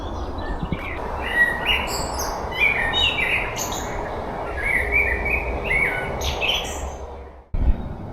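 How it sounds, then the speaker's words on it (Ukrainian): Several birds sing and chirp steadily in an open outdoor space while fishing, overlapping high trills over a constant low background rumble, ending with a brief thump. "співають пташки"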